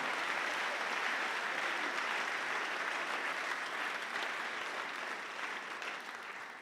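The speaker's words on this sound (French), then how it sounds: "On peut vous applaudir, docteur" A hall audience applauds an award-winning doctor at a young researchers' prize ceremony, with continuous, moderately soft clapping that tapers slightly toward the end.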